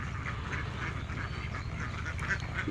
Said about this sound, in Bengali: হাঁসগুলো খুবই সুন্দর ওজনও মোটামুটি ভালো আসে